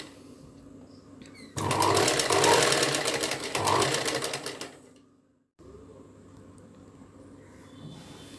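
A sewing machine stitches cord piping onto a blouse neckline in a loud, rapid burst of needle clatter lasting a few seconds. It then slows and stops, leaving quiet room noise and a faint low hum.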